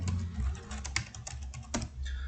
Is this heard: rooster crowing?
no